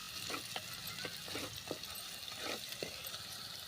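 Onion and ginger-garlic paste sauté in a hot pan, a steady loud sizzle broken by repeated scraping stirs of a spoon, close up with no voices.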